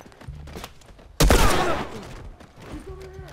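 A single loud gunshot from The Last of Us cracks out suddenly and then tails off into a rumbling decay, with quiet in-game sounds before and after.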